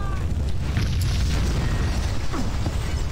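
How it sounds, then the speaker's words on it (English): In Max Payne 2, an explosives-packed building blows up, giving a continuous heavy rumbling roar with scattered crackles and debris sounds, loud and close throughout. "The building's blowing up."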